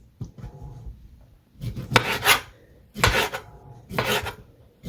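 A knife slices cooked bratwurst into rings on a board, in three or four close, rhythmic bursts of scraping cuts, near and fairly quiet, with no talk.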